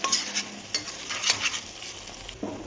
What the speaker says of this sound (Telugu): అల్లం వెల్లుల్లి పేస్ట్ వేసుకోవాలి. వేసుకొని బాగా కలుపుకోవాలి.